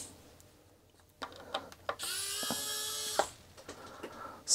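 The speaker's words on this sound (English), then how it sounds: "Small electric screwdriver." A small electric screwdriver backing out Amiga 1200 keyboard screws: a whirring motor burst of about a second and a half, with scattered small clicks and taps of handling before and after, fairly quiet and close.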